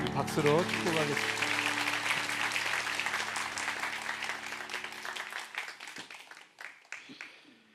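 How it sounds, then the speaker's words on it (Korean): A congregation at a Sunday church service breaks into applause as a blessing, a dense clapping wash that fades gradually over several seconds, with speech and a lingering musical tone underneath at the start. "박수로 축복하겠습니다."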